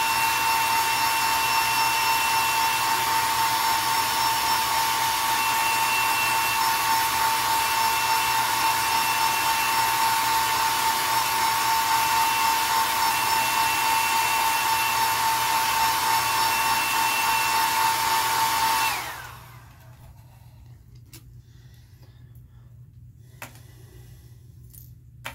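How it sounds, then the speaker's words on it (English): Heat gun blowing steadily to cure fresh paint on a custom shad-pattern crankbait lure, a loud continuous hot-air whoosh with a whine that runs for about nineteen seconds, then cuts off into near silence with faint handling clicks. "we're going to put a heat set on this real quick"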